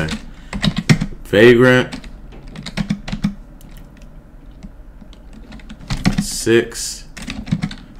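Keys clatter on a computer keyboard as a sudo dpkg install command is typed into a terminal, bursts of clicking near and crisp, with someone talking in between.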